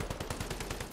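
Rapid gunfire from the video game Hyper Front, a quick burst of about nine evenly spaced shots packed into one second, close and punchy.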